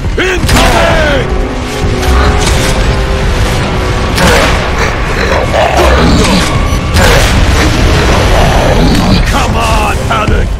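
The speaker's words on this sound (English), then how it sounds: "Another mortar!" Mortar explosions in the video game Gears of War: Judgment, heard as heavy booms among constant gunfire, mechanical clatter and dense combat noise that fill the whole stretch.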